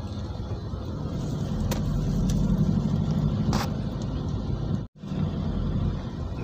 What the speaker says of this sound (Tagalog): Traffic mga idol.